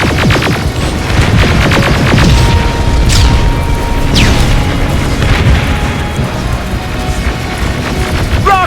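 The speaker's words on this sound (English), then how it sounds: "Rockets! They're headed this way!" Rocket explosions boom in a Terminator: Resistance battle, a dense continuous rumble of blasts with sharp whooshing streaks overhead and metallic clatter, loud and sustained throughout without speech.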